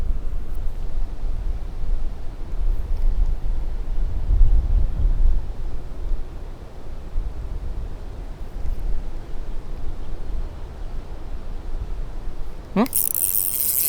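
Steady, heavy wind buffets the microphone on a fishing bank, a continuous low rumbling roar with gusty swells lasting throughout and a brief sharp rustle near the end.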